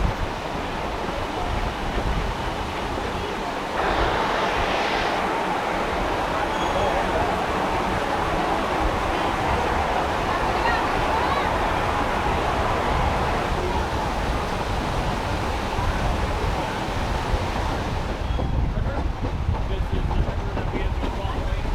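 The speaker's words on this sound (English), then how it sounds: "Here's another chance to see the engine perform a blowdown." A Durango & Silverton Railroad steam locomotive performs a blowdown, letting out a loud, continuous roaring hiss that holds for over twenty seconds and eases only briefly near the end.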